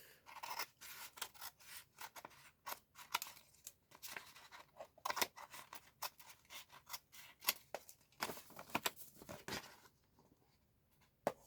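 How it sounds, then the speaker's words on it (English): Scissors snipping paper while making an envelope, a quick irregular series of crisp close cuts and rustles, quiet and alone, trailing off near the end. "Cut your corners off. Open it up. Cut the inside off."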